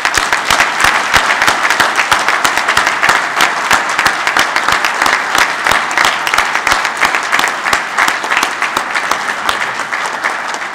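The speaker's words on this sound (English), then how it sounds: "please join me in saluting with our applause the March graduates of the United States Naval War" An audience at the United States Naval War College graduation ceremony applauds the March graduates, sustained, even clapping from many hands close by, with no speech over it.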